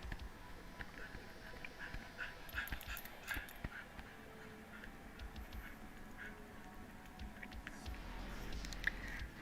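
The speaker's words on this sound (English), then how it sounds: "My doggy says hi." A pet dog gives soft, faint whimpers and small yips, scattered through a quiet room with light pattering.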